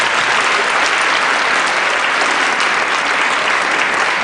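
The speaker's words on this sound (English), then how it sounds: "Please give me a good round of applause." An audience fills a church with a dense, steady round of applause after a talk, sustained clapping with no break and no speech over it.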